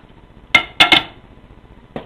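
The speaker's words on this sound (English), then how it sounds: "we add a little bit of the spice and mash it into there" A utensil mashes spice into pumpkin sauce in a pot, giving a few sharp metallic clinks and knocks against the pot. There is a single hit, then a quick double, then one more after a pause, in an otherwise quiet kitchen.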